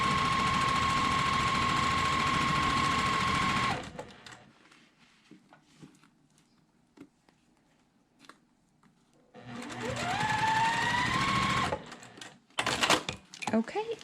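Sewing machine stitching a quilt block, two bursts of fast, close mechanical whirring with a quiet pause between them filled by soft fabric handling and taps.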